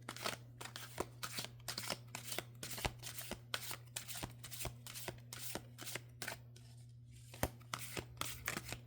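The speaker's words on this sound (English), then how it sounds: "So let's go ahead and shuffle, see what happens." Morgan Greer tarot cards are riffled and shuffled by hand, a quick series of sharp papery flutters repeating in a steady rhythm, close and fairly quiet, over a low constant hum.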